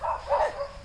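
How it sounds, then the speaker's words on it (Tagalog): A dog lets out two or three short, rough barks at moderate distance, with no talk over them. "Tumatahol lang guys oh."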